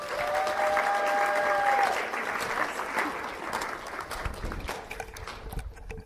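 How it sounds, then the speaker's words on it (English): An audience gives a round of applause at a Christian healing event, a full burst of clapping that thins out after a couple of seconds, with a voice starting to speak over the tail. "if you'd just give her the biggest, yummiest round of applause"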